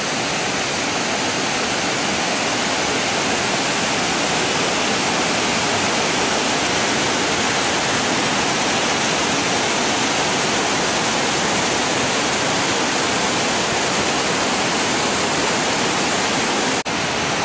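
Steady, loud broadband roar of river water rushing below a cliff, a continuous wash of noise with no pauses, heard from above for the full length.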